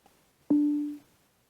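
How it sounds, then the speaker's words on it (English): A single electronic beep from a Bluetooth receiver attached to an original SoundDock speaker system, signalling that pairing is complete: one clear, steady tone lasting about half a second, close and isolated against near silence. "the second beep you hear would mean that it's connected"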